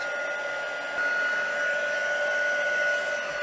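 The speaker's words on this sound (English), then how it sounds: "So I'll turn on the heat gun and warm it first." A heat gun blows hot air steadily while warming embossed copper sheet for a vintage leaves box, a continuous whooshing roar with a whining tone that steps up in pitch partway through, close and fairly loud.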